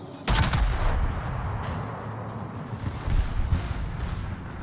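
Warship main guns fire in World of Warships, a loud booming salvo opening with a sharp blast followed by rolling rumbles and a second swell of gunfire.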